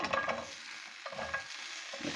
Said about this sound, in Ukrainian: А зараз я вже на розігріту сковорідку без олійки викидаю цибульку